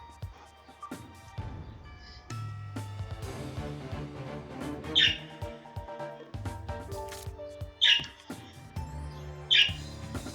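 Three short, sharp squawks from birds in the video game Wizard of Legend stand out against steady layered game music, spaced a couple of seconds apart.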